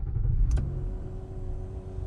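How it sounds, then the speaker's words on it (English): A 2010 Nissan Maxima with its 3.5-litre VQ35DE V6 starting up, a brief starter crank and catch followed by a loud low rumble that settles into a steady, smooth idle. "Turn on the engine."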